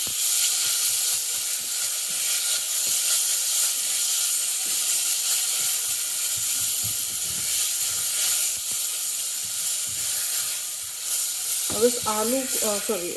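A spice paste cooks in hot oil for a Maharashtrian gobhi mutter, giving a loud, continuous sizzling hiss with faint stirring bumps beneath, and a voice speaking briefly near the end.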